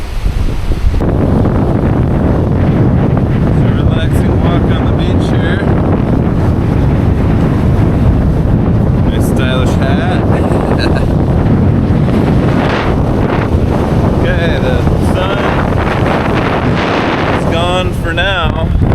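Strong wind buffets the microphone on a boat off Maui, a loud continuous roar with water sounds beneath and a voice speaking in places.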